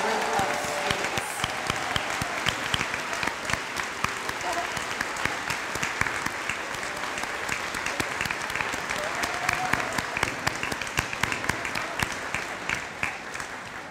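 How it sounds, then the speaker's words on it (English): Sustained audience applause for a group of students at a middle school eighth grade recognition ceremony, many hands clapping in a dense, even stream for about fourteen seconds, with some crisp individual claps and faint voices mixed in. "Can I get a huge round of applause for this group of students?"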